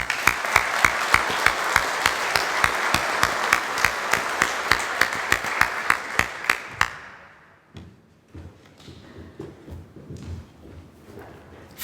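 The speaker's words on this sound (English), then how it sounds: "Please, a round of applause for auxiliary staff." Steady applause at a leadership school graduation ceremony, with sharp individual claps standing out, fades after several seconds into quiet room noise with scattered claps.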